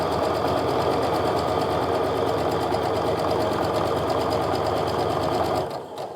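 A sewing machine stitches quilt block rows together in a loud, steady, continuous whir that runs unbroken for several seconds before stopping abruptly near the end.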